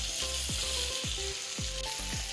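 Vegetables and field beans (pavta) sauté in hot oil for a Bhogi mixed vegetable dish, giving a steady close sizzle with a few spoon-stirring scrapes and no talking.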